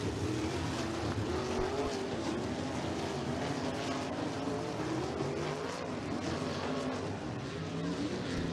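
Steel block sprint cars race at Circle City Raceway, their engines blending into a dense, continuous roar that stays steady and fairly loud throughout with no clear pauses.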